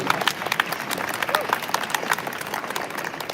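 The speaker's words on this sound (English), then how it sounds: "I think we should give a round of applause just for that statement." Conference audience at Web Summit Qatar breaking into a round of applause, dense crowd clapping sustained at steady volume throughout.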